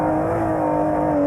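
An Aston Martin Vantage V12 track car revs hard, a loud, steady high-pitched engine howl with a rising tone, close and continuous with no voices.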